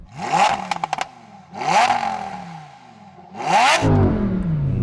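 A Lamborghini Huracán Sterrato's 5.2 litre naturally aspirated V10 revs hard three times, each burst climbing sharply and falling away, the last held longer into a rumbling idle; loud and close.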